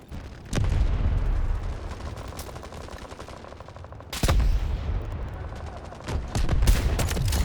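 Loud bursts of sniper rifle fire from the R93 in the shooter game Delta Force, several booming shots with sharp onsets and ringing tails, spaced a few seconds apart, with no talking.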